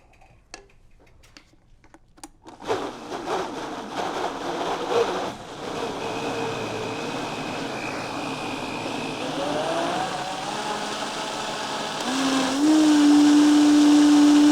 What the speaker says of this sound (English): if you have a standard blender